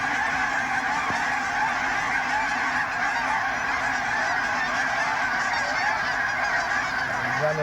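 A large flock of geese honks continuously around a goose hunting camp on farmland, forming a dense, loud, steady chorus of overlapping calls with no talking.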